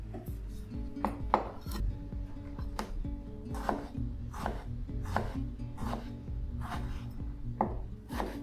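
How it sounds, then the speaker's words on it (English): A knife chops tomatoes on a cutting board for healthy quesadillas, with a run of about a dozen crisp, close taps landing at an uneven rhythm over a quiet kitchen background. "It's worth taking a little bit more time to chop the tomatoes"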